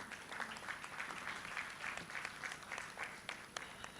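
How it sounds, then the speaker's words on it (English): An audience at the 46th Ordinary Session of the ACERWC applauds its panelists with steady, fairly quiet clapping from a roomful of people, an even patter that holds for several seconds without pause. "They deserve a round of applause"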